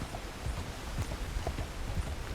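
A horse walking in the video game Red Dead Redemption 2 gives a steady, regular clip-clop of hooves, moderately loud over a low ambient background with no talking.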